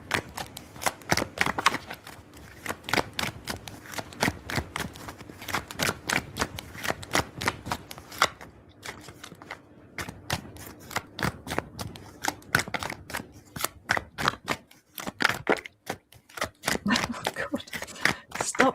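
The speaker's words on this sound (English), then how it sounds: "Stop shuffling." Tarot cards riffle in a rapid overhand shuffle, a dense run of crisp papery flicks sounding close and steady, broken by a few brief pauses, with no talk over them.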